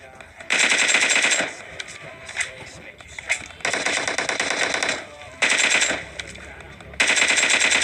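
Automatic gunfire in a shooter video game, rattling in loud sustained bursts separated by short pauses, with softer in-game sounds between the volleys.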